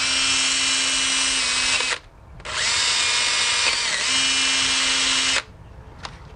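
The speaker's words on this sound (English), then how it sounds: "if yours are rusty at all, you can use one of these little wire wheels" A power drill spinning a small wire wheel scrubs rust off a car brake caliper during brake work on a BMW E46, running loud and steady in two long bursts separated by a brief pause, then stopping.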